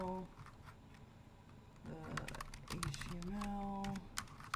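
Computer keyboard typing clicks come quickly under a voice that talks over them, close and fairly quiet.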